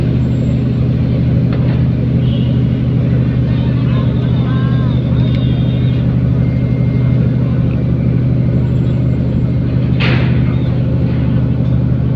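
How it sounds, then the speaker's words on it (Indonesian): Heavy road traffic on a route between East Lampung and Cilegon, Indonesia, with many cars pulling in: a loud, continuous engine rumble and tyre noise from several vehicles, with a brief whoosh of one passing car near the end. "suasana masih banyak mobil yang masuk"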